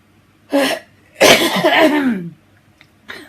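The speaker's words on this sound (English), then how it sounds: "I'm just going to have to cough." A short cough from someone getting over a cold, followed by a longer, harsh rasping cough with a throaty tail, close and loud, then a brief sound at the end.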